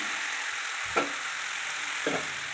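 A steady sizzle of hot oil tempering fills the clip, with two brief soft thumps as dal is stirred in; no voices.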